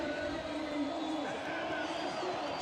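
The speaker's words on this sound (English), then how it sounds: "Listen to this crowd in Fort Lauderdale." Dense stadium crowd in Fort Lauderdale at an Inter Miami versus NYCFC Eastern Conference final, a steady roar with a rising chant for Allende, loud and continuous throughout, a faint voice mixed in.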